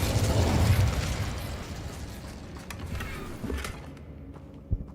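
A fire spell cast in the video game Hogwarts Legacy gives a burst of fiery noise that rises and then fades, with smaller pops and a sharp crack near the end, in a busy game mix.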